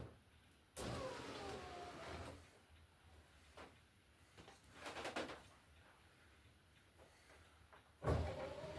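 An MG TF car's electric window motor runs off the car battery, giving a few short whirring bursts and mechanical clunks at close range, quiet overall with pauses between.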